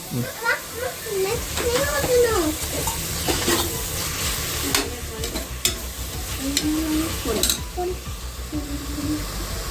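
Mint leaves sautéing for mutton biryani give a close, busy sizzle with frequent stirring scrapes, while voices talk over it, including a child's.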